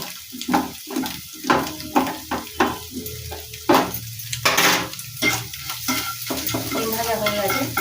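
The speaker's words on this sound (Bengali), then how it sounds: "ডিম ভাজা হয়ে গেছে।" Egg frying in a pan with onion, chilli, salt and turmeric, stirred with a utensil: close, loud sizzling spatters and scraping strokes in an uneven rhythm, with no voices.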